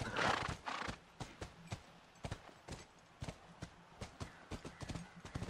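Horse hooves in The Last of Us video game clip-clop in a steady walking rhythm, close and clear. A snort or whinny sounds at the start.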